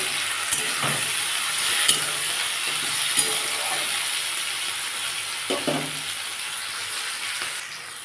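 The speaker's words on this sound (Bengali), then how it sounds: "দিয়ে আবার এটাকে ভেজে নেব।" Beto greens with tomato fry in a pan, a steady, close sizzling hiss throughout, punctuated by occasional soft stirring knocks and clicks, with no talking.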